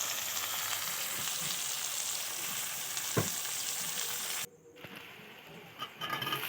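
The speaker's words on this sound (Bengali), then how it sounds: "লঙ্কা কুচনো তেজপাতা দিয়ে একসঙ্গে ভেজে নিচ্ছি।" Chopped green chillies and bay leaves frying together in hot oil for an egg curry, a steady loud sizzle with a brief stir clatter, then the sizzle drops suddenly and returns unevenly.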